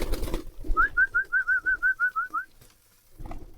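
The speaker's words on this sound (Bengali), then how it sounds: "গাইস ফাইনালি ফার্মের ভিতরে কবুতরগুলোকে নিয়ে এসেছি।" On a farm, a pigeon gives a clear, close run of about ten quick, evenly spaced coos in a steady rhythm, with some soft rustling before and after.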